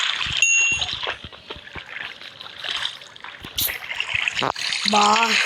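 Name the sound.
flowing water in a video game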